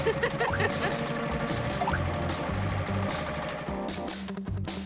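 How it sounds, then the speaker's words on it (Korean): A sewing machine stitches doll-sized fabric in fast, rhythmic bursts of mechanical stitching, loud and close, pausing briefly near the end. "내가 좋아하는 재봉틀 일할 준비 됐지?"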